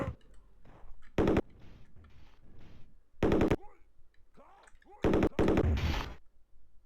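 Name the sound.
turret gunfire in the video game Operation Body Count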